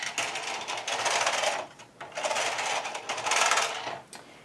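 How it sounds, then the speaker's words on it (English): Knitting needles working the last two stitches of a blanket: quick, dense clicking and rattling in two long bursts separated by a short pause, close and clear with no voice. "getting the last 2 stitches knitted"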